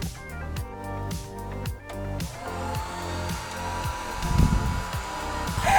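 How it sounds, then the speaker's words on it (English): A hair dryer blows on magnetic eyelashes with a steady, loud whooshing roar that shifts slightly in pitch as it moves, continuous and close. "he's going to actually take a blow dryer and blow on my lashes"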